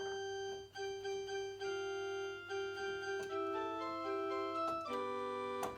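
Organ playing the three-and-a-half-bar introduction to an Easter Anthem, steady sustained chords moving through a short phrase, quiet and clean with no voices.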